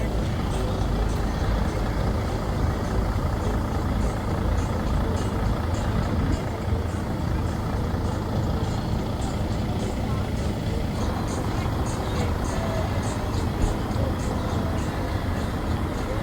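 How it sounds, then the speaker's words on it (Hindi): A recovery truck sits among other heavy trucks at an outdoor truck festival in Newark, UK. A steady low engine rumble and crowd hubbub run throughout, with a faint repeating high beep and people talking nearby. "ये रिकवरी ले ट्रक है जी"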